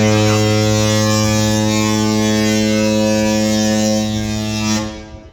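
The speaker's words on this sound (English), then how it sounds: "it is foggy enough to hear the foghorn" A deep, loud cruise ship foghorn blares steadily for several seconds in fog at sea off Alaska, then cuts off and fades into quiet.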